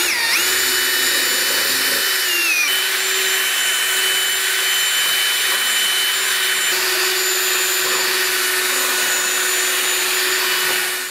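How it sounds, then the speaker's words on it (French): A rotary mixer churns lime wash blended with pigment paste, a loud, steady motorized whine that holds unbroken for the whole stretch after a brief shift in pitch near the start. "Et on mélange toujours avec l'appareil rotatif."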